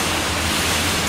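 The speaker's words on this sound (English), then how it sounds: "It's flooding like crazy here" Floodwater rushes steadily through an ankle-deep submerged street, a loud, continuous broadband wash with no breaks or voices.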